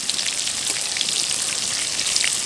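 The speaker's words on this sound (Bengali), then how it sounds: "পটলটা যতক্ষণ পর্যন্ত না লাল হয়ে ভাজা হচ্ছে ততক্ষণ পর্যন্ত এটাকে এভাবে নেড়ে নেড়ে ভেজে নেব।" Pointed gourd (potol) frying in oil in a pan, a dense, bright, continuous sizzle with fine crackling spatters, close and fairly loud, with no voices.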